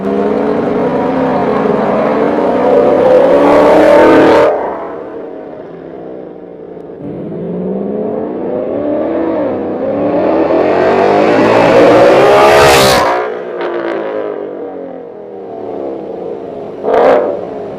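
A 2019 Ford Mustang GT V8 with a Borla ATAK exhaust roars past several times, each pass swelling as it nears and fading away.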